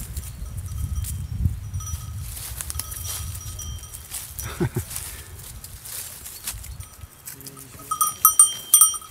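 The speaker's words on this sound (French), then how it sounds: "Les moutons qui arrivent." Sheep bleat and bells clank irregularly as a flock moves close by on a countryside trail near Ambialet, France, with rustling and shuffling throughout and a burst of bleating near the end.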